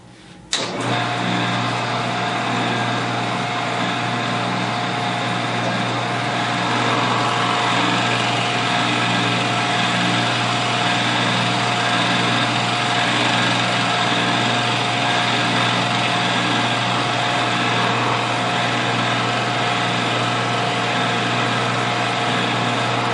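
A steady, loud electric drill whine runs continuously after a brief start, a constant motorized drone with no pauses or talking, drilling down to a set depth.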